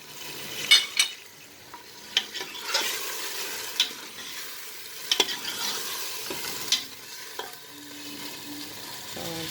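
Meat frying in a pan with onion and ginger-garlic paste for a dhaba-style chana dal gosht, a soft steady sizzle broken by repeated scraping stirs and occasional clinks of a spoon against the pot.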